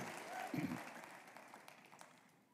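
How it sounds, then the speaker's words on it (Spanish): A church congregation applauds at a Spanish-language Wednesday service, the clapping fairly faint and distant, swelling briefly with a voice near the start before thinning out and fading toward the end. "denle un aplauso bien fuerte al Rey"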